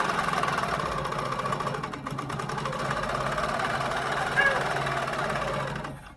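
A sewing machine runs in a continuous, even mechanical whir while basting quilt pieces for a star quilt, staying steady for several seconds before cutting off at the end.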